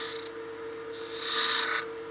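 A lathe tool scrapes across the face of a wooden wine glass, giving a steady rasping hiss over the spindle's constant hum that swells and fades in two passes.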